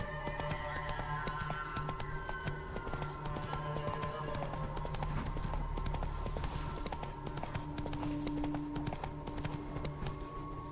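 The horse Roach gallops in The Witcher 3: Wild Hunt, a fast, steady clip-clop of hooves that runs on for several seconds with an occasional snort, heard alone without talk.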